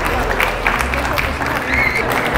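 Guests at an engagement applaud as the bride's parents are welcomed on stage, a steady wash of clapping mixed with crowd murmur and some talking.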